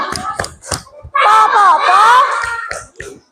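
A class of students performs a rhythmic clapping chant, sharp unison claps spaced evenly around loud group shouting in the middle, with a few final claps after the voices stop.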